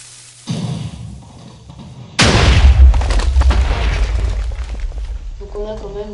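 A TNT cannon fires in a block-building video game, one sudden loud blast that booms and rumbles on for several seconds after a quieter lead-in with some talk.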